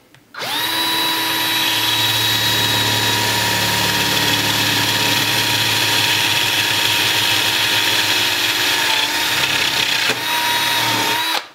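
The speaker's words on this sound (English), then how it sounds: "line up the bit so that it's straight up and down and drill the hole. And put it on high speed setting" A power drill bores a hole in black acrylic at high speed, a loud, steady whine with a shifting pitch that runs for about ten seconds close by before spinning down.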